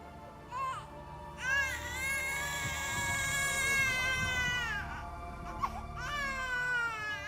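A baby wails in loud, drawn-out cries, one long sustained cry followed by a fresh start, rising and falling in pitch, heard clearly in an Indonesian drama.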